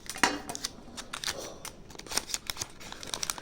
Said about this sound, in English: I got myself a scissor. I want to make sure I don't cut the card.